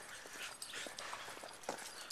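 A dog gives a string of short, quiet yips and whimpers, somewhat distant and faint against a low background, with a slightly louder burst near the end.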